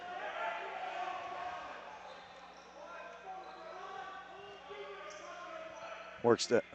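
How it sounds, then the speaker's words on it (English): Steady crowd noise fills a junior B lacrosse game between the Six Nations Fire and the Tuscarora Tomahawks, a continuous murmuring wash with voices over it and a few sharp, loud hits near the end. "we'll turn on the crowd noise for you guys"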